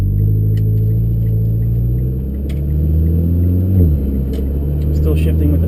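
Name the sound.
Mitsubishi Evo MR TC-SST engine, shifting with paddles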